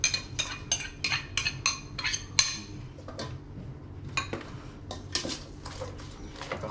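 A utensil clinks and scrapes against a bowl while minced aromatics are mixed for a duck blood dish, a rapid run of close metallic taps giving way to slower, irregular scrapes.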